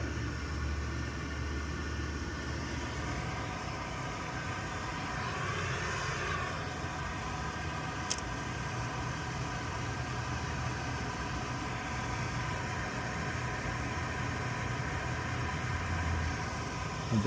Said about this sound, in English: The blower kicked on.